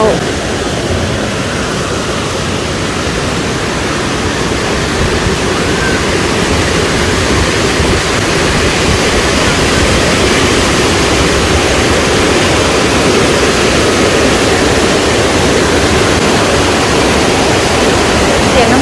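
Constant loud roar of a waterfall at a temple, a dense, unbroken rush of water filling the whole stretch without pause.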